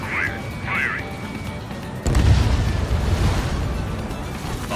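A missile detonates in the Ace Combat 7 combat flight game, a sudden loud boom that hits partway through and rolls off into rumbling noise, following a couple of short chirping tones.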